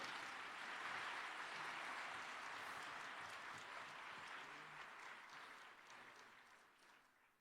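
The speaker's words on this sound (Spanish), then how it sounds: "Y un aplauso, por favor." A lecture audience applauds in a hall, a soft, steady wash of clapping that gradually fades away toward the end.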